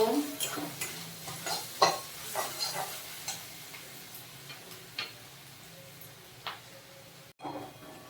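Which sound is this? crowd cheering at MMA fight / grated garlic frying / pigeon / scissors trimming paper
grated garlic frying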